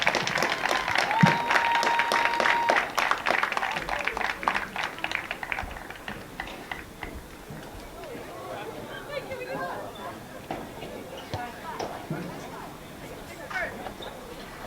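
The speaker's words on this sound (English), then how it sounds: "Give them a big round of applause." A crowd at a high school boys' varsity soccer senior program claps for the senior players, with loud applause at first that thins into scattered claps, chatter and crowd babble as it fades.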